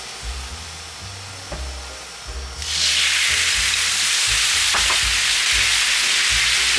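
Garlic and seasoning sauce frying in oil in a pan while making japchae: a quieter low rumble first, then a sudden loud, steady hiss of sizzling as the sauce hits the hot oil, continuing without talk.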